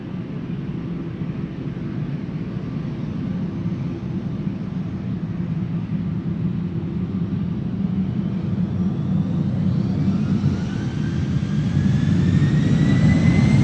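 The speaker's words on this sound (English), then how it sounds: "We can already see that Lufthansa flight 989 is entering the runway. It's an A320 to Frankfurt." A fourteen-year-old Lufthansa Airbus A320 bound for Frankfurt lines up on the runway at Amsterdam Schiphol, its low jet rumble growing steadily louder as a rising engine whine emerges near the end.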